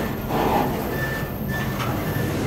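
The steady roar of a moving freight train rides through, with rolling rumble and faint high metallic squeals from the wheels, heard close up from aboard a car in the dark, with no talking.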